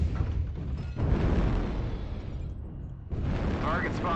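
Artillery strike explosions in MechWarrior Online erupt as a dense, rumbling barrage, with heavy booms running continuously over several seconds and a brief lull before another burst.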